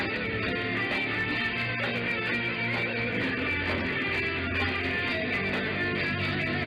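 An electric guitar lick, recorded in 1998, plays as a dense, continuous distorted tone that holds steady and loud from start to finish with no talking.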